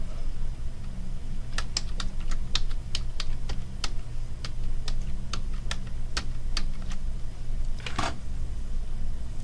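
A password is typed on a computer keyboard, a run of distinct, moderately loud key clicks in an irregular rhythm over a steady low hum, with a slightly longer press near the end.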